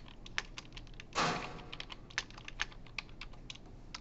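Code typed on a computer keyboard during a programming lecture: a steady run of crisp, close key clicks with one louder, longer burst partway through, with no talking.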